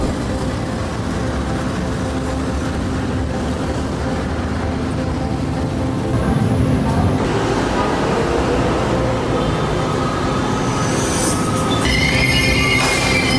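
Wheel squeal from an LRT-1 train at an elevated station in the Philippines, loud and continuous over steady rumble, the shrill tones rising and thickening toward the end.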